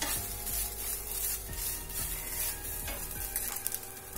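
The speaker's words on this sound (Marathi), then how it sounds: "आपण खवलेलं ओलं खोबरं छान परतून घेऊया." Grated fresh coconut roasts in a pan over a low flame, giving a soft, continuous sizzle with gentle rhythmic stirring scrapes recurring roughly every second.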